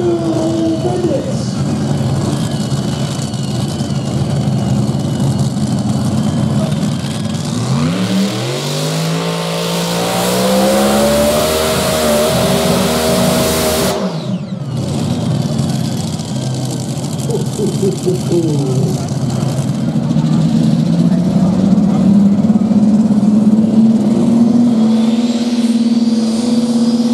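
A pulling tractor at a tractor pulling event in Cadzand roars loudly at high RPM, its engine note rising and swooping through long revving sweeps, with crowd noise and voices underneath.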